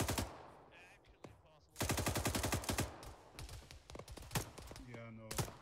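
Gunfire in the military shooter Arma 3: rapid bursts of automatic fire crack loudly in repeated volleys, mixed with scattered single shots, at moderate distance, with brief radio-like chatter near the end.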